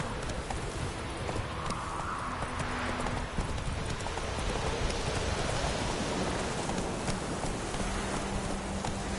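Hooves of Roach, a horse in The Witcher 3, clip-clop at a steady gallop under a constant rain-like wash of noise, with faint background tones.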